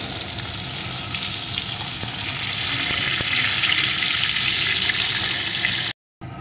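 Panakal fish frying in hot oil in a kitchen pan, a steady loud sizzle that swells slightly midway, runs for about six seconds, then cuts off abruptly before a brief return.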